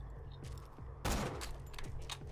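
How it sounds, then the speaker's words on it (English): A single shot from a gold sniper rifle in Borderlands 2: one sharp, loud blast hits about a second in and rings briefly before fading back into low game background noise. "I'm gonna shoot this dude in the freaking dome."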